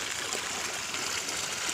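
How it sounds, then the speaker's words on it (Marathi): Water flows steadily across a farm field toward a nearby stream, producing a continuous broadband rush and trickle that stays even and fairly close throughout, with no voices. "हे असं पाणी सरळ जातं. तिकडे पुढे ओहळ आहे, त्या ओहळाला जाऊन मिळतं."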